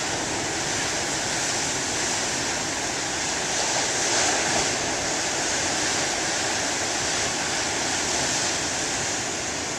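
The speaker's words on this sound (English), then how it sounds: "waves today are nowhere near as sexy as the ones of November 16th" Moderate ocean waves break on a shore in a continuous loud roar of surf and hiss, with a slight swell in the middle and no voices.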